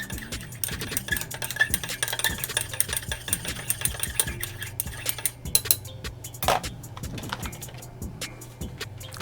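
Essential oils being stirred together into a blend, with repeated light scraping and clinking of a utensil against a container over a steady low background hum, close and fairly quiet throughout.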